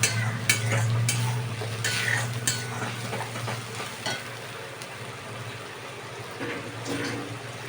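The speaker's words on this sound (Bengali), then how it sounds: "এবার এটাকে আমি ভালো করে নাড়তে থাকবো" Pomfret fish curry stirred in a pan, with repeated spoon scrapes and clinks over a soft sizzle and a constant low hum, loudest at the start and quieter later.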